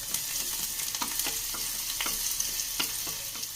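Small chopped shallots sauté in hot coconut oil for an okra coconut curry, giving a steady close sizzle broken by regular scraping stirs of the spoon, with no talking.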